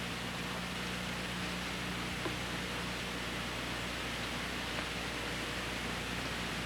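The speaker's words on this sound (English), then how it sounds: "So I take and I sand this seam down." Sanding down a leather boot seam makes a steady, even, broadband abrasive hiss that runs without a break, close and moderately loud.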